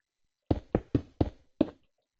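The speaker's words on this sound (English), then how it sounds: "So you place down your glass," Glass blocks are placed one by one in Minecraft with the Create mod, five short, sharp clinking taps in an uneven rhythm, close and clean, with silence before and after.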